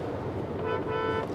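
A Hyundai Creta EV sounds its horn, a sustained nasal honk over a low road rumble, loud and close.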